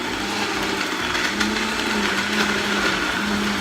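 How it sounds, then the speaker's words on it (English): A Vitamix blender runs steadily close up, a loud continuous motor whir with a sustained hum and rising tone as the speed is gradually increased, with no voices. "If you have one of these Vitamix, start on the low level, turn it on, gradually increase the speed."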